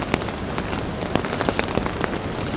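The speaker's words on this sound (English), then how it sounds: "This is a typical afternoon melody, rain on the tent" Steady rain patters on a tent at a jungle camp 2,222 metres up during a trek toward Carstensz Pyramid, a dense, even hiss of drops with scattered sharper ticks of individual hits, close by and continuous, with no voices.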